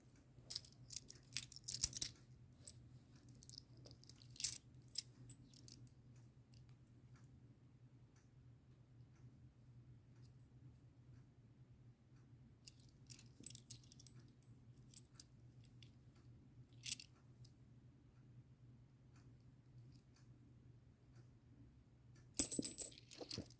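Used brass 10-won coins from 1999 are handled in near silence, with scattered light metallic clicks and clinks in small bursts and a final cluster of louder taps.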